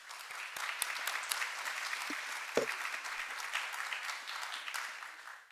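Audience applause welcoming Juan Sánchez as a speaker at the Second Latin American Social Management Meeting, a steady dense clapping that holds for several seconds with one brief low thump partway through.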